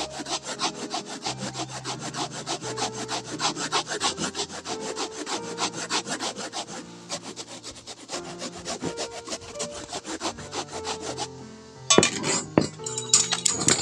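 Rhythmic scraping and rubbing close up as a homemade motorcycle seat is smoothed, with steady back-and-forth strokes and a few clinks near the end.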